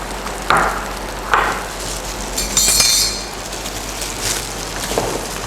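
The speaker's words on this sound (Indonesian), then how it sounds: "Kita aduk lagi." A utensil stirs diced green bell pepper, onion and garlic in a pan, making several sharp metallic clinks and scrapes spaced a second or so apart over a faint background sizzle.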